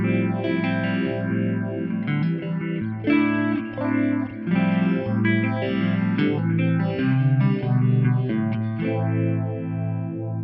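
Electric guitar chords drenched in a deep, wobbling phaser sweep from a phaser pedal set fully wet, loud and continuous, with no voices.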